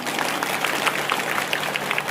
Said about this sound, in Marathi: एकदा आपल्यासाठी टाळ्या वाजवून टाका